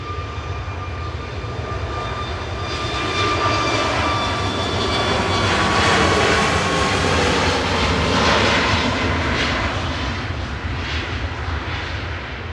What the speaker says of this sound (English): departing now. Flight 2644 to Hania on the port on Crete.